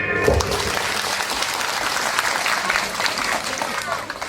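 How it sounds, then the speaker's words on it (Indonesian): An audience at an Islamic religious gathering in Kalimantan claps steadily in a dense, sustained burst of applause that fills the space for several seconds. "Tepuk tangan."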